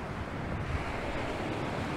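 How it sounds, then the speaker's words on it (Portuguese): Ocean waves break against rocks along the coast of a small Angolan town, a soft, continuous rumbling wash mixed with wind buffeting the microphone, fairly faint and with no talking. "a ouvir o som das ondas é totalmente prazeroso"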